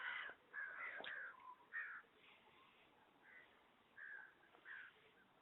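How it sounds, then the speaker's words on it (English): Crows caw in a series of short, harsh calls, several bursts in close succession followed by a few more spaced out, moderately near with no talk. "Crows."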